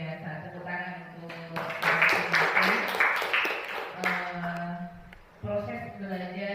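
An audience claps for a few seconds, a burst of applause rising and fading, with a voice speaking before and after.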